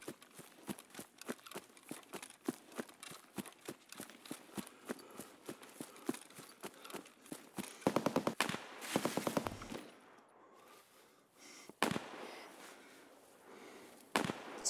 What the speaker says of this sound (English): we're hearing shots near where we were